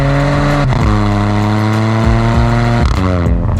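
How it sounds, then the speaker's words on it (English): A Hyundai i20 N-Line fitted with a BMC air intake revs through downshifts, loud close engine tones rising and falling with sharp gear-change breaks. "flick down a couple of gears, and this BMC air intake system also sounds very,"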